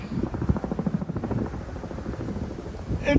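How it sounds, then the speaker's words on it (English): Rapid rhythmic thudding of helicopter rotor blades, steady and moderately loud, chopping continuously. "It's the helicopter."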